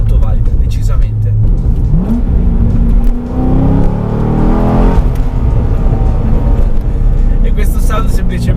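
A Corvette C6 V8 revs loudly and continuously nearby, rising in pitch as it accelerates, with a voice talking over the engine throughout.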